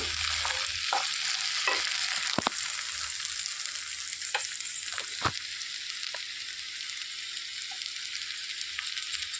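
Ivy gourd fry with dry coconut stirs in a pan: a continuous loud sizzle broken by sharp spatula scrapes and taps at irregular intervals, with no voices.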